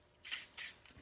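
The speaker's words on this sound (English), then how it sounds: "get the WD-40 and just put a little bit" WD-40 sprayed onto 600 grit wet sandpaper for an ax restoration: two short, loud aerosol hisses in quick succession, close by, with quiet handling afterward.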